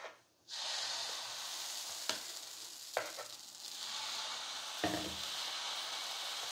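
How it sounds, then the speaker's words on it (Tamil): Dosa batter ladled onto a hot, well-heated stone griddle gives a steady, close frying sizzle that starts abruptly and continues throughout, with a few small knocks and scrapes of a ladle. "இப்போ தோசை ஊற்றிக்கலாம்"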